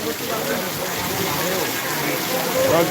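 Heavy rain falling in Chittagong's port area during a stormy day, a dense, steady wash of drops, loud and close, with a brief rise near the end.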